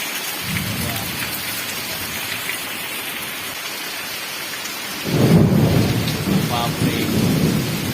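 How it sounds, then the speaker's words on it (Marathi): Heavy rain pours steadily in rural Konkan (Sawantwadi), joined by deep rolling thunder that swells loudly midway and keeps rumbling to the end. "आवाज भरपूर येणार विजेंच्या गडगडाटांचा"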